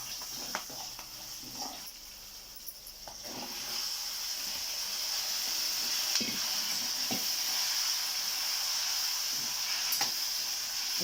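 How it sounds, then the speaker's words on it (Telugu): Tomatoes frying in hot oil while being stirred in a pan for tomato rice, a soft continuous sizzle with occasional scraping stir sounds, close and fairly quiet, no talk. "ఇప్పుడు టమాటాలు వేస్తున్నాను ఇప్పుడు"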